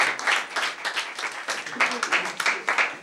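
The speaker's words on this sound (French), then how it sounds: "On peut les applaudir!" Audience applause at a live improvised comedy show, a bright burst of clapping from the crowd rising and falling in waves, with a voice talking over it.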